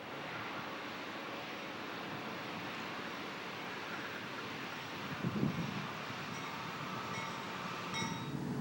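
Diesel freight locomotives rumble steadily at a distance through Cajon Pass in 1995, a continuous low engine drone with a brief louder thump near the middle and faint higher tones toward the end.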